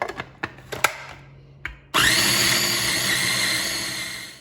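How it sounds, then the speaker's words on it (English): A kitchen blender whirs through pesto with olive oil, starting after a few scattered clicks and knocks, then holding a loud, steady high-pitched motor whine that slowly eases. "And then complete your blending."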